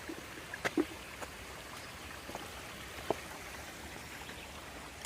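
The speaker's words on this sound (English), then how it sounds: "Got a little bit of a stream crossing here." Small trickling stream at an Appalachian Trail crossing with little water but a steady flow, heard as a soft continuous wash with a few faint splashy ticks and no talking.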